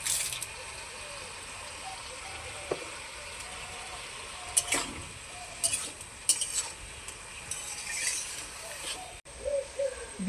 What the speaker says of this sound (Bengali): যেহেতু আমি বিনস আর গাজর একসঙ্গে ভেজে নিচ্ছি, তার সঙ্গে বাঁধাকপিও দিয়ে দিলাম।